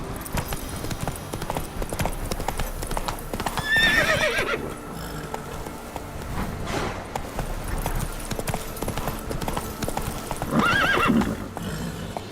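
Roach the horse in a video game, rapid galloping hoofbeats clopping steadily throughout, with two short whinnies breaking in near the start and near the end.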